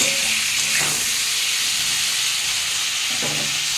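Tomato fries in a pot of lentil dal with a loud, steady hiss of sizzling and steam that carries without a break. A few faint clinks are heard under the noise.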